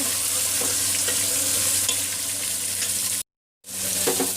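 Aloo gosht with potatoes being stirred and fried in a pan: a steady, loud sizzle with scraping stir strokes, briefly cutting out near the end before resuming, no talk.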